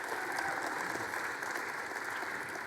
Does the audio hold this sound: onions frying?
no